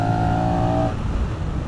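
A Honda Rebel 1100 DCT motorcycle pulls hard at full throttle, its engine note rising in a strong, close drone that drops off abruptly partway through, as if shifting gear.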